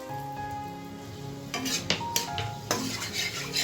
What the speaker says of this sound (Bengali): তো কিছু তেল আমি অ্যাড করে নিচ্ছি। দিয়ে দেবো তেজপাতা, দারচিনি আর এলাচ আর গোটা